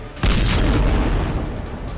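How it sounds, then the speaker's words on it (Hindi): An Israeli missile strike on a building in Gaza at night sets off a single deep, loud boom that hits suddenly and then rumbles and decays over the following seconds. "धमाके की आवाज से पूरा इलाका थर्रा उठा।"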